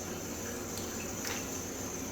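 An old Kohler toilet bowl refills with a steady, faint rush of running water in a bathroom, constant and quiet with no voices.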